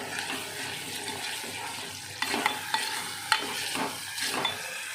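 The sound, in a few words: frying mixture in ghee in a pan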